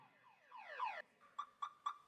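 A car alarm sounds alone, rising in sweeping electronic warbles, then cutting into three short, sharp beeps as it is switched off.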